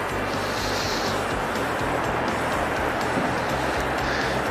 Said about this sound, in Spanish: Va levantando los hielos en la ola y aquí viene